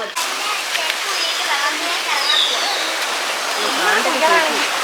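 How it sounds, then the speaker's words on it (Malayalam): A village stream flowing, a constant rushing, splashing wash of water heard up close, with faint chirps over it. "ഇതാണ് കേട്ടോ നമ്മുടെ തോട്"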